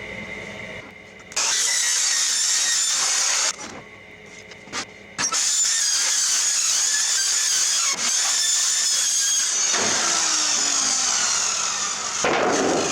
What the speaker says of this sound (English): Skill saw. It's not just for wood.